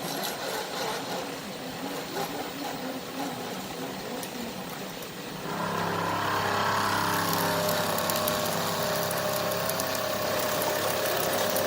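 Metal block being squared on a milling machine taking a 24-thousandths cut, a steady mechanical grind and whir that grows louder and harsher partway through as the cutter bites in, close and continuous with no talking.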